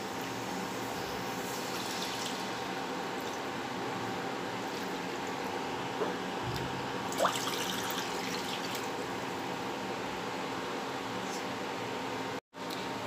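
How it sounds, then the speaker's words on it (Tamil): Water runs and trickles softly in a steady stream into a hot pan, fairly quiet, with a faint splash midway and a brief cutout near the end. "இப்ப 2 கப் தண்ணி சேர்த்து நல்லா கொதிக்க விடணும்."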